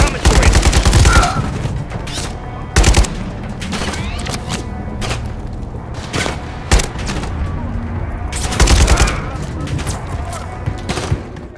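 Gunfire in the Modern Warfare 3 video game campaign, with repeated loud bursts and heavy booms spread across the scene over a busy battle background and voices.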